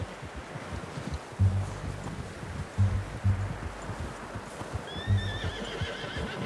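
A horse in the video game Red Dead Redemption 2 whinnies over steady outdoor wind and rustling, with a few heavy hoof thuds scattered through; moderately close.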